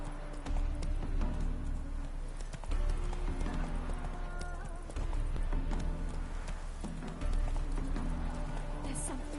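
Hooves of the horse Roach pound steadily through a rapid clip-clop gallop in The Witcher 3, loud and close over a continuous bed of orchestral game music.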